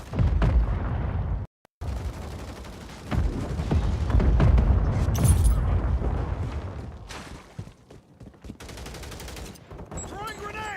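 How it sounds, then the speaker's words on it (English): Mortar strike explosions in a video game boom and rumble loudly, with a dense stretch of blasts and gunfire-like crackle, a short silent gap, then continuing heavy impacts that fade toward a quieter tail. "Hostile mortar strike in the area"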